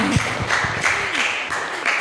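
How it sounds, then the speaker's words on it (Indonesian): An audience applauding during a Dhamma teaching session, a moderate spread of clapping with a voice talking over it in places. "Tepuk tangan untuk ibunya"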